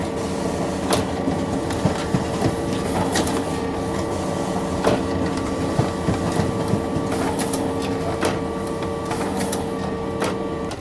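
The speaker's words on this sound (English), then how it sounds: "I have just generated a pick list and I'm printing it, so let's go to the printer." A printer prints a pick list, its mechanism whirring and clicking in a steady run with sharp ticks scattered through it, close and unaccompanied by talk.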